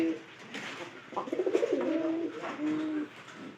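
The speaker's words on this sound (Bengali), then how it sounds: "এখানে একটা পায়রা আছে পায়রাটা কিন্তু খুব ঝামেলা করতেছে" A pigeon coos close by in a household pigeon loft, giving a series of low, rolling, throaty coos followed by a longer sustained one, fairly soft with no talk.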